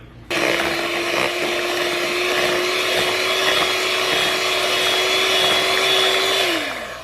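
An electric mixer whirs through oatmeal banana bread batter with canola oil, starting abruptly and holding a steady, loud motor whine for several seconds before winding down.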